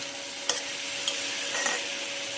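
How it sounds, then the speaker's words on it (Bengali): Chunks of taro with salt and turmeric are stirred in a pan, a soft sizzling bed broken by three light scraping strokes of the spoon, close and quiet with no talking. "কচুটার মধ্যে নুন হলুদ দিয়ে এখন একটু মিক্স করে নিচ্ছি"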